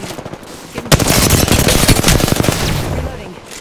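Rapid automatic gunfire from enemies in the video game Apex Legends, a dense continuous burst of shots filling most of the clip, loud and close.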